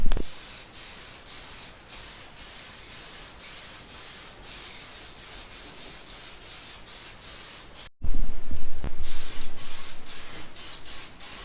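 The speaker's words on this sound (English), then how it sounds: "I'm going to hit this whole area with some black primer" Black primer hisses from a rattle can in a series of short bursts over the bare, welded metal of a Chevy Nova tail panel rail, then a brief pause and a louder, heavier burst.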